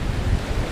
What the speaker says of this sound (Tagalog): Malalaking alon ang humahampas sa may port area.